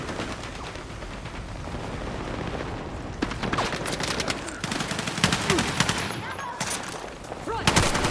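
Machine gun fire in a Battlefield 6 campaign mission, with rapid bursts of close and distant gunshots that get louder in the second half, over constant battlefield noise.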